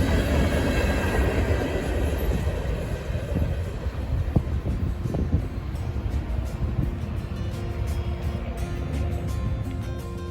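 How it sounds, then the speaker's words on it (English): A train rumbles past steadily at Winton Place, Cincinnati, close and loud, with a constant roar and occasional metallic clicks. "This is the last train of the day that we caught at Winton Place."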